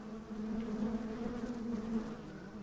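Honey bees buzz around beekeeping hives in a steady, close, continuous drone that fills the whole stretch with no voices.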